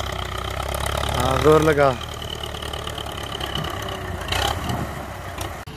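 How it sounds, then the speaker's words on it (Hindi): Old 1977 Russian tractor in Pakistan with its diesel engine running in a steady, rough rumble throughout. A short rising whine comes early, and voices talk over the engine. "तो नाज़रीन ये 1977 मॉडल ट्रैक्टर है रूसी।"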